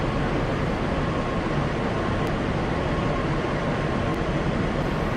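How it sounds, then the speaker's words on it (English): An R160 subway car on a Brooklyn-bound Q Express train rolls along in a steady, loud, continuous rumble and roar, with no voices over it. "This is a Brooklyn-bound Q Express train."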